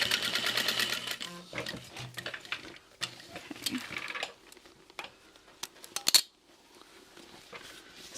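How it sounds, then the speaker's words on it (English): A sewing machine bastes the layers of a Portland tote bag exterior together, running in short rapid bursts of stitching separated by pauses, light clicks and handling of the fabric. "I'm gonna baste them down, making sure they're lined up with the center."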